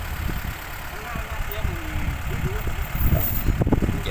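A farm tractor engine rumbles as it pushes a car stuck in the mud, a low, uneven chugging that swells toward the end, with people talking over it.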